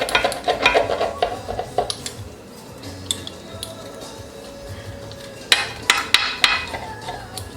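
Knife or pizza cutter slicing through a homemade margherita pizza in a cast iron pan, a run of sharp clinks and scrapes of metal on iron in quick bursts, a quieter pause, then more clattering cuts, close and without speech.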